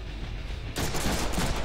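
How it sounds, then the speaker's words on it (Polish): Sudden burst of sustained gunfire in the Deadpool video game, loud and dense, erupting after a quieter moment and continuing as a rapid volley aimed at the player. "Obstrzeliwują mnie tu nieźle."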